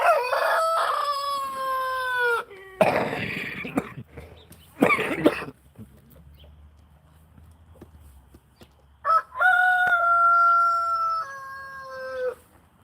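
Rooster crowing on a farm: two loud, close, drawn-out crows open and close the clip, separated by a few hoarse coughs and a long quiet stretch.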